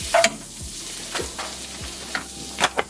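Red pepper, green pepper and onion sizzle in a hot pan with a constant frying hiss, while a utensil stirs them in several distinct scraping strokes close by, with no talking.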